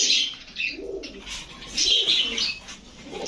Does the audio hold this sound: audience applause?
no